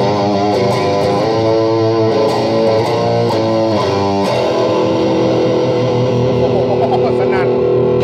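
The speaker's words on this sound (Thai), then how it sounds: "เดี๋ยวลองดูเสียงแตกบ้าง" A loud, distorted electric guitar, a Newcomer model sold for around 3,xxx baht, plays thick, fuzzy chords. It rings continuously for about eight seconds, with several chord changes before settling into a sustained, gritty wash.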